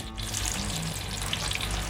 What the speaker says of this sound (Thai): แล้วนำลงทอดได้เลยครับ ทอดให้เหลืองกรอบเลยนะครับทุกคนครับ